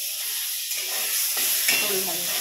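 Pointed gourd slices sizzle in a pan with an even frying hiss and a brief scrape of stirring, close and moderately loud, no talk.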